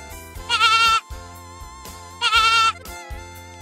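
A goat bleats loudly twice, each wavering call lasting about half a second, near and clear with a short pause between them.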